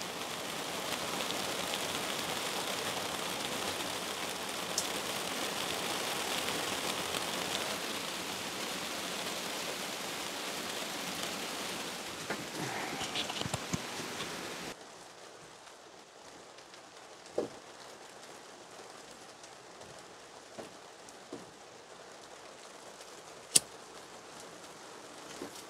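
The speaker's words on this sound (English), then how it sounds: "Rain is still coming down, it's nice." A thick wash of heavy rain pours on a greenhouse for about fifteen seconds, loud and continuous, then drops to a much quieter patter with scattered individual drips and taps.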